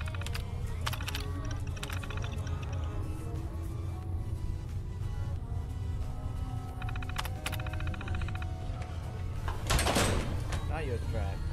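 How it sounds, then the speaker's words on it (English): Inside a video game, a door slides shut with a heavy thud near the end. It rises over a steady bed of game sound, clicking keys and a person talking. "Is it this one? Close the door?"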